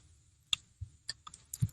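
A handful of sharp key clicks from typing a web address on a computer keyboard during a web development lesson, sparse and irregular, close and fairly quiet over a low background hum.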